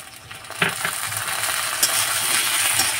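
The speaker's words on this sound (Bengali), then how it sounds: "টমেটো কুচি দিয়ে ভালো করে টমেটো কুচি আর পেঁয়াজটা ভালো করে মিক্স করে নেব।" Chopped tomato and onion fry in hot oil in a pan for a mustard-paste fish curry, giving a steady crackling sizzle broken by a few scraping stirs and light clinks.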